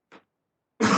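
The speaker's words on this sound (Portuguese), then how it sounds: "Nossa, gente, que tosse." A faint short breath or throat sound comes first, then after a pause a loud, harsh cough bursts out close by and carries on to the end.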